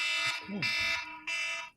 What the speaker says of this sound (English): get your alarm